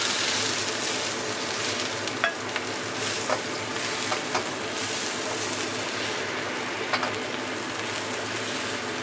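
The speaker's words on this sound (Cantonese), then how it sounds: "跟住然之後攞啲洋蔥落去爆一爆先" Onions stir-frying in a hot wok for a corn and diced meat dish, a steady loud sizzle with occasional small pops and scraping stirs throughout, no talking.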